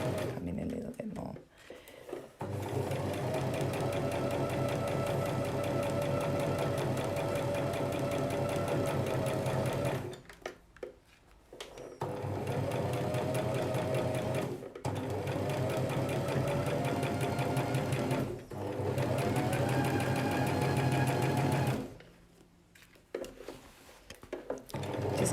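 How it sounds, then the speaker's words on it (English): Sewing machine stitching slowly around the edge of a pocket on a gathered full circle skirt, a steady, close mechanical whirr running in long stretches broken by short pauses, with a voice talking over it. "we're just going to sew around the edge of the pocket"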